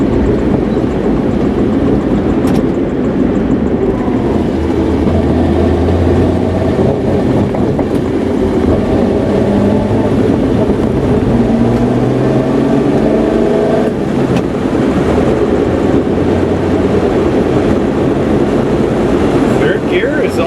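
Old classic car that sat unused for years, running in third gear with no speedometer. The engine hums in a steady loud drone with shifting pitch, and someone talks over it now and then.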